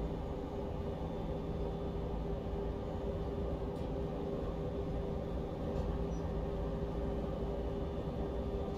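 A Vectron electric locomotive in Train Sim World 4 runs through the Spessart in foggy, dull weather, giving a steady, continuous rumble with a faint tonal whine and no talk.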